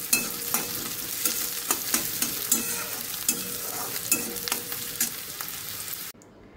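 Onions and chillies frying in a pan and being stirred, a close sizzle punctuated by regular scraping stirs that cuts off abruptly near the end.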